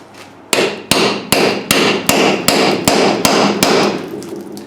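A heavy hammer strikes a socket onto a stuck car wheel lock eight times in a steady, loud, even rhythm, each metallic whack ringing briefly before the next.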